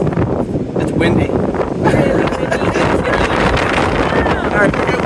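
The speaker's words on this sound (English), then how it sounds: "It's windy." Strong gusts at Copes Lookout on Mohonk Mountain House grounds buffet the microphone in a loud, continuous rough roar with rising and falling surges.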